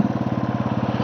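A Royal Enfield Electra motorcycle engine thumps at idle up close, a fast, even train of deep pulses repeating steadily with no speech over it.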